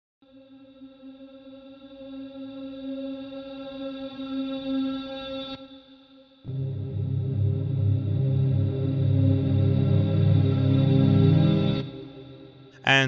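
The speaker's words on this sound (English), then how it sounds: "Let's try the Strat." A Stratocaster electric guitar preset from the Zero-G Impromptu virtual instrument plays sustained chords with chorus, echo and distortion, two long ringing phrases separated by a short gap, loud and alone.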